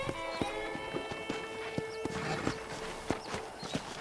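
Horse hooves clip-clop at a steady walking pace, close by, at a ranch in the video game Red Dead Redemption, with a soft ambient background and no talking.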